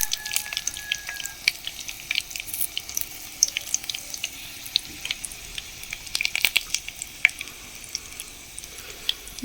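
Nigella seeds and green chillies fry in hot mustard oil, a soft crackling sizzle with scattered pops and spits, fairly quiet and continuous with no talk.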